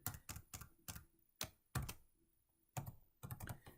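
Keystrokes on a computer keyboard while a relationship name is entered in Visio 2016, heard as quick irregular bursts of taps separated by short pauses, close and clear with no speech.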